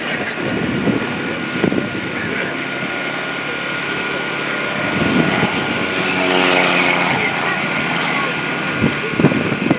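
A light 95-horsepower propeller airplane flies at an air show, its engine drone steady and moderately distant, swelling slightly as it passes, with crowd and commentator voices beneath.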